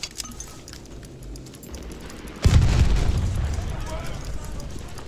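A heavy artillery shell explodes in the Battlefield 1 open beta on PC, a sudden loud deep boom that rumbles on for a couple of seconds amid ongoing battlefield noise.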